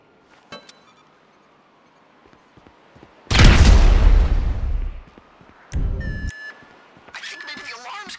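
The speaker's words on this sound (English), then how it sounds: "I think maybe the alarm's going." An alarm and a heavy explosion in the video game GTA V on PC: faint electronic beeps, then a loud roaring blast lasting nearly two seconds, followed by a second shorter burst and fading debris and alarm tones.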